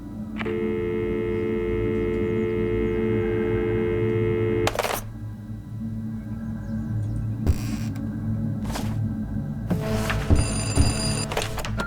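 An electronic telephone in the NUTS game rings in a long steady trill over a low hum, then stops with a click, followed by scattered bursts of dialing and busy-line tones.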